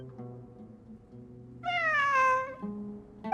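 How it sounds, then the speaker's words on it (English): A single clear cat meow rising and falling, close and distinct, over a faint low background hum, with the start of another sound at the very end. "It really is a cat."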